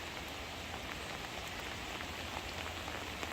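Steady hurricane rain from Helene falling in Atlanta, Georgia, a continuous even hiss of drops on surfaces with faint scattered patters, soft and distant-sounding with no voices.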